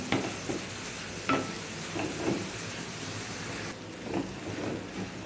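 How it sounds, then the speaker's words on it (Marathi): Sprouted moth beans (matki) frying in a pan give a soft, steady sizzle, broken by a few scraping stirs of a spoon against the metal. "त्यामध्ये मोड आणलेली मटकी आहे ही एक दोन तीन मिनटं फ्राय करून घ्यायची"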